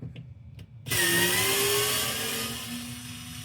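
A cordless electric screwdriver backing screws out of an Xbox Series X console: a couple of faint clicks, then the motor whirs up sharply into a steady, close hum that slowly sags in pitch.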